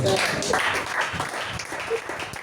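Church congregation applauding, a dense wash of clapping with voices mixed in throughout, fairly loud and steady for a couple of seconds.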